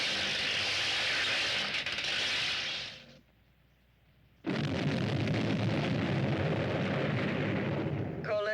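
An explosion sound effect in a science-fiction radio play about a war between planets: a sustained roaring blast, then a brief lull before a second loud, broad rumbling burst that runs to the end.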